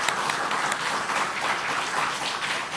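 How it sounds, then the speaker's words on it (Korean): A church congregation applauds to welcome a new pastor, a dense, steady wash of clapping filling the room for a few seconds with no voices on top. "박수로 우리 환영하도록 하겠습니다"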